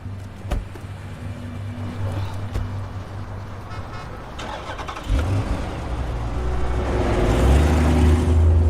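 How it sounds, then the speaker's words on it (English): A car engine starting on a cold night, a cranking catch followed by a rising idle rumble that steadily grows louder, with an earlier short toot and background noise. "Start the car, get the heat going."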